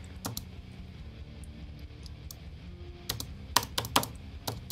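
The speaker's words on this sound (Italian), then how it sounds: "Tastiera, non mi morire adesso." Computer keyboard keys clatter during frantic play of a free archery game, a steady patter of soft clicks broken by a few sharper, louder strikes near the end.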